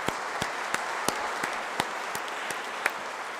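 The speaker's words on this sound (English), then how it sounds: "please give me a big clap" An audience at an endowment lecture session applauds, a steady wash of many hands clapping at moderate distance, with a few sharper individual claps standing out over a few seconds.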